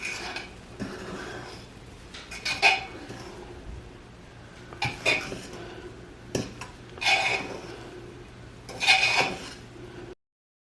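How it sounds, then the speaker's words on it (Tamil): A fork scraping and clinking against a pot while mixing cooked Jamaican rice and kidney beans, several separate bursts of close metallic scraping with quiet pauses between them. "ஒரு முள்ளு கரண்டியால் இதை நல்லா மிக்ஸ் பண்ணி விடுங்க"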